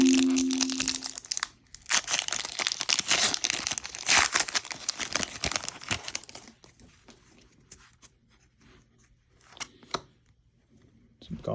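Foil packs of 2021 Metal Universe Champions trading cards being torn open and crinkled close up, a loud dense stretch of ripping and rustling that gives way to quieter handling of the cards.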